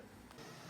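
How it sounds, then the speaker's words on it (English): A 3D printer runs on a desk with a faint, steady mechanical hum, quiet and continuous, with no voices. "I have a 3D printer here and it's doing some task."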